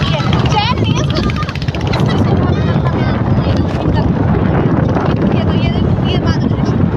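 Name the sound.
wind blowing on Ganga Path riverside at night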